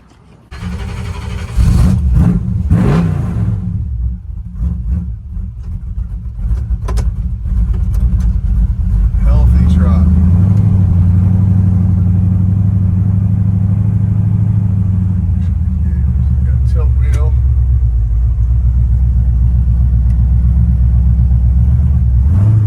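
A restored 1970 Chevrolet C10 pickup truck engine starts with a push-button starter and settles into a loud, deep rumbling run, rising and easing as the truck drives off; no speech.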